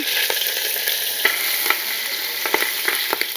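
Mustard seeds, dals, ginger pieces and green chilli slits fry in hot oil for semiya and rava upma, a steady loud sizzle broken by several short scraping stirs of a spatula, with no voices.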